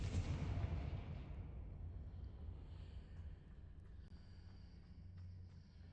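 A Confringo fire-spell explosion in Hogwarts Legacy, one booming blast at the start that fades into a long low rumble and fainter game ambience.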